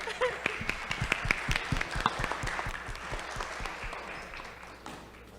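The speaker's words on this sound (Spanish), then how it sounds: "Un aplauso." An audience at an inaugural heritage talk gives a short round of applause, scattered distinct claps that thin out and fade within a few seconds in a modest room.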